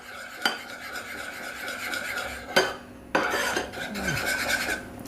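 A spoon stirs strawberry flavouring in a bowl for homemade sweets, scraping and swirling steadily, with a few sharp clinks against the bowl's side.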